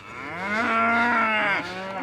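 Cattle on a farm letting out one long, loud, close moo that swells and fades over about two seconds, heard alone without talk.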